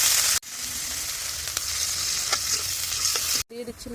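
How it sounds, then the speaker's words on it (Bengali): Loud, steady sizzling of prawns frying with onion paste in a hot pan, close up, with a few scraping stirs before it cuts off. "পেঁয়াজ বাটা দিয়ে ভালোভাবে কষিয়ে নেব মাছ"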